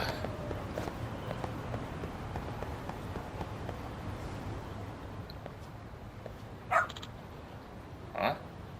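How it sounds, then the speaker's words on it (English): A dog in the video game Lost Judgment pads and yips faintly amid a low ambient background, with two brief brighter sounds near the end. "What's up with this dog?"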